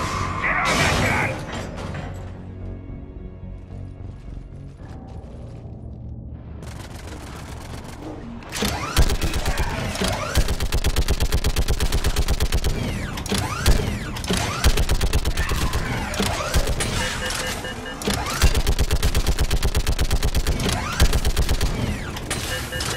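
A mounted gun fires in Mass Effect 3, a long sustained burst of rapid, rattling mechanical shots that kicks in partway through and carries on loud and dense over the game's background din.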